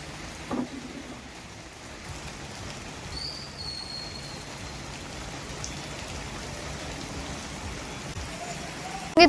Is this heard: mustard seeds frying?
no